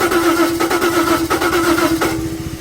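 A Jaguar XJ40 engine cranks on the starter after a dose of starting fluid, firing on only one cylinder. It gives a loud, steady churning drone with a few sharp irregular catches and no voices.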